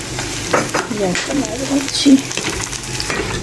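Spices for a tempering of khesari (grass pea) greens sizzle briefly in hot oil, with close, crackling frying and a few light stirring clinks.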